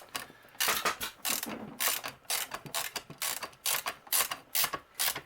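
Socket ratchet clicking in short repeated bursts as it turns a bolt on a 1951 Ford truck during seat work, close and crisp with brief pauses between strokes.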